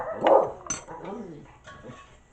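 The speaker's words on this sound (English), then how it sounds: "And my dogs are going nuts for some reason." Dogs in a house bark excitedly, with one loud bark up close followed by a few softer yips and whimpering barks that fade out.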